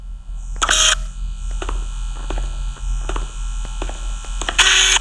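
Camera shutter clicks in a horror video game, two sharp close clicks at the start and end with faint ticking and a low steady hum between.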